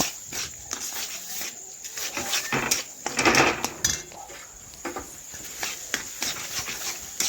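Chhena cottage cheese being stir-fried with masala in a pan, with continual scraping and clinking of a spoon against the pan over a faint sizzle, in irregular bursts throughout.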